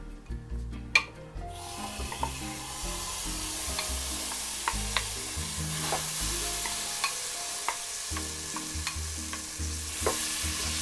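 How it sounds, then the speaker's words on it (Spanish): Butter melting and sizzling in a pan for fish cakes, with a steady frying hiss and scattered clicks of a utensil stirring against the pan throughout. "Vamos a calentar la mantequilla."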